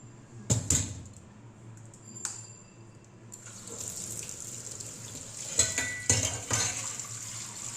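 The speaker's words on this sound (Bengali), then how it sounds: "চায়ের এই দুটো বাটি ধোবো" Two tea bowls are washed at a sink, with sharp clinks and knocks of ceramic against the basin followed by a running tap, close and fairly quiet.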